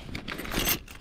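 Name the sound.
keys jangling while locking up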